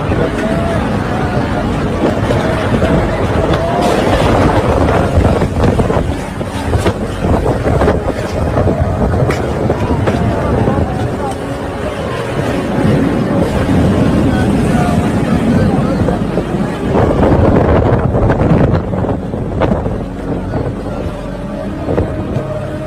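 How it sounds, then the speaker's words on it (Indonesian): A rain and wind storm in Mecca makes a constant loud, rushing roar of wind and downpour that fills the whole stretch, with a faint murmur of people beneath it. "Inilah yang terjadi jika kota Mekah diguyur hujan"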